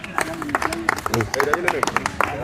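A small group claps for the top scorer at a Patna exam-coaching session for Bihar SSC candidates, with scattered, uneven claps mixed with voices and chatter throughout.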